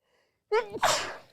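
A single sharp sneeze close by: a quick voiced intake followed by a loud, breathy burst that trails off, with near-silence beforehand.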